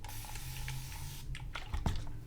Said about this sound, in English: Now I'm gonna go in with my water, and I'm gonna spray the top part of my hair